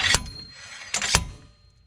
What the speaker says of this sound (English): Now you just pull back on the T-handle and then slide the hammer back.